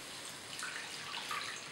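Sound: water poured into pan with garlic and oil

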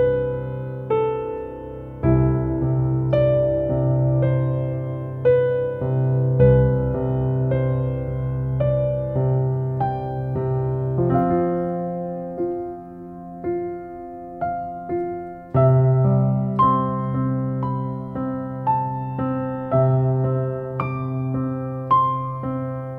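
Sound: orchestral film score melody

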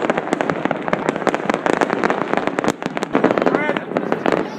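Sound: New Year's Eve fireworks in Naples

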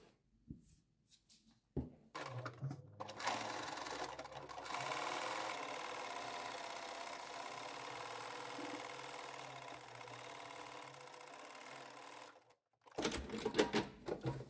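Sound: sewing machine stitching a fabric bag hem

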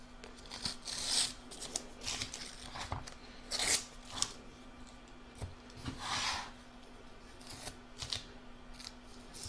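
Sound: trimming excess fabric off embroidered heart placemat

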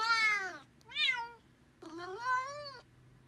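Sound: cat meowing in reply to a question

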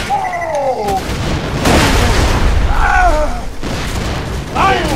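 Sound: grenade explosion in the video game Borderlands 2

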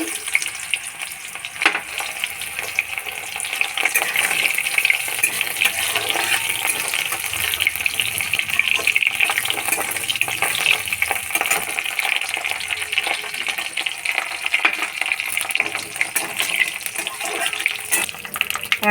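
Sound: frying dried lentil dumplings (bori) in oil

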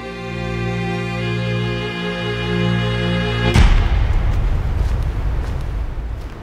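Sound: gunshot in a film

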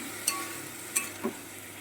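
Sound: stirring and frying food in pan

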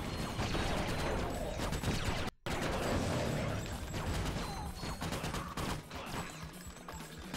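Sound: dual-wielded morph-o gun firing in the video game Ratchet: Deadlocked

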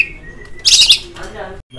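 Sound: oriental magpie-robin (kacer) singing

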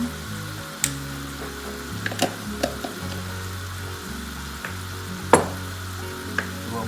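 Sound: stir-frying noodles with fish sauce and sugar in a pan

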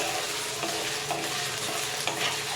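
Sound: stirring potatoes frying in oil

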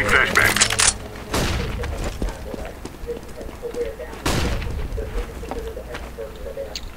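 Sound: flashbang grenade exploding in CS:GO video game

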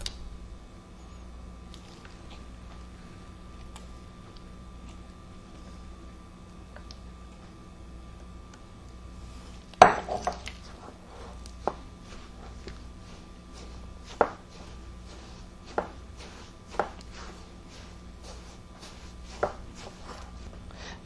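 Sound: mixing grated coconut with condensed milk for filling

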